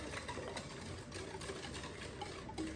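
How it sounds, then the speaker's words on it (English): Cane sugar being whisked in a mixing bowl for sourdough chocolate chip muffins, a faint, steady scraping and whirring that continues without break, with no talking. "I'm going to whisk these together."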